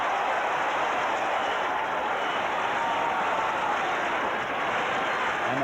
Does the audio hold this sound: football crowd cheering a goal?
yes